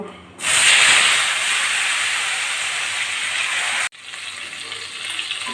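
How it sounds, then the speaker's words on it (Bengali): Salted, turmeric-coated bitter gourd pieces dropped into hot oil with bay leaf and dried chilli, giving a loud, steady broadband hiss that starts abruptly, holds, then dips and continues slightly quieter. "উচ্ছেগুলো আমি একটু ভেজে নেব"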